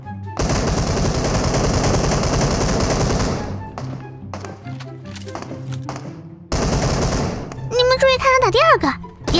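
Rapid automatic gunfire from a video game shooter, a dense sustained burst for about three seconds, then scattered single shots and thuds, then another loud burst with whooping effects at the end; speech murmurs underneath.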